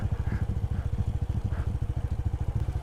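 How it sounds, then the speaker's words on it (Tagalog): Motorcycle engines idle and rumble steadily at close range in a parking area, a continuous low pulsing throb with faint mechanical clatter. "Daming motor dito."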